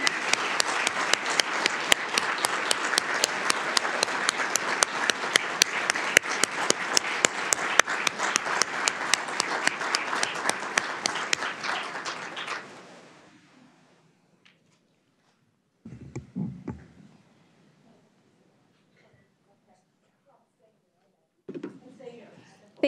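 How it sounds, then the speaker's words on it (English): An audience at the closing of a Minnesota National Guard women's leadership forum breaks into loud, dense applause that lasts about thirteen seconds, then fades to quiet, followed by a few brief bursts of speech. "Let's give them a round of applause."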